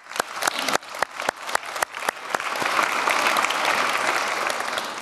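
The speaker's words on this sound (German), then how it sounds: "Deswegen nochmal kurz ein Klatschen in die Runde zum Wachwerden." An audience bursts into applause at a summit, starting as scattered sharp claps that quickly swell into dense, sustained clapping from a crowd filling the room.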